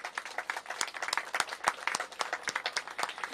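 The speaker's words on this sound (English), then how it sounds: "Let's get a big cheer for that one." Outdoor crowd at a street revitalization ribbon cutting claps in scattered, distinct hand claps, moderately close and fairly light, with no voices over it.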